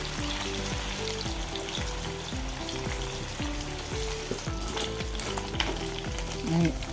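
Anchovy fish frying in hot oil in a pan: a loud, dense, continuous sizzle and crackle, close up, with occasional clinks of a utensil stirring and no voices.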